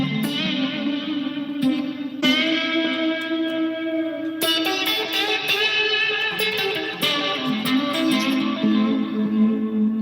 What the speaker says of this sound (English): tone number 3 is my crunch tone. It's got 2 delays, a reverb, clone, and some light phaser